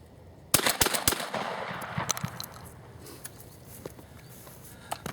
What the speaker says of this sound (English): So I'm going to fire 3 shots as quick as I can.